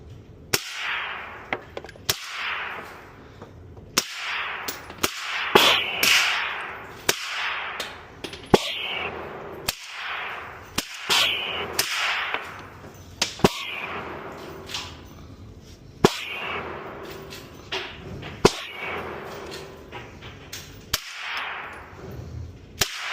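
Anderson Manufacturing AM-15 rifle fired outdoors, a series of sharp cracking shots spaced irregularly over the span, moderately distant with low background rustle between them.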